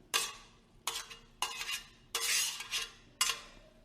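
Bacalao, salt cod, stirred into a pan with spinach and cream, heard as five distinct scraping strokes of a utensil against the pan with light sizzling between, close and fairly quiet.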